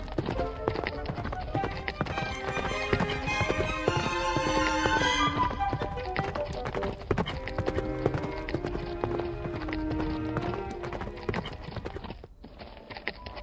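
Wild mustang horses move about, hooves clopping and thudding in dense, irregular steps close by, with occasional snorts under a steady outdoor background throughout.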